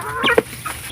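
A backyard chicken gives a few quick, close clucks in a brief burst, with no voices.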